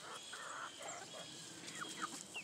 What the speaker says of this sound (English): Romeo, you're such a good rooster.